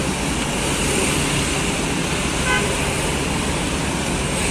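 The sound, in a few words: tour bus convoy passing, horn honking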